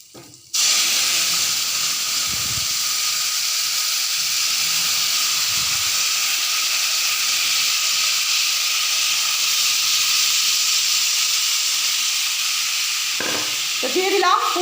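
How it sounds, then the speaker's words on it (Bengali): Whole tempering spices hit hot oil for a koi fish, bean seed and potato curry, setting off a sudden loud, steady sizzle that holds evenly, with a brief clatter near the end. "তো এখন আমি ফোড়ন দিয়ে দিচ্ছি"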